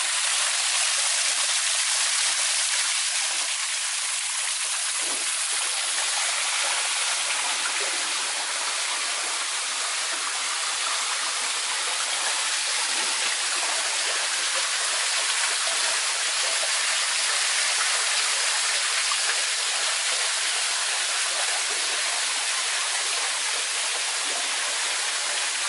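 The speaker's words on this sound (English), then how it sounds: "the water really opens up through here" A stream flowing down through a 15-acre rural property on North Fork Drive, a steady, full rush of water close by, continuous and unbroken for the whole stretch.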